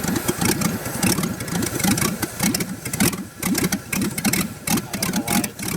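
LS V8 engine swapped into a Miata-based kart, idling very low at about 400 RPM while in second gear, with a loud, close, uneven lumpy chug that sounds ready to stall.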